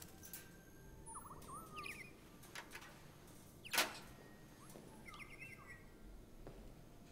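Robot bird in Detroit Become Human, giving soft synthetic chirps and tweets scattered over several seconds. One sharp, louder chirp stands out midway against a quiet background.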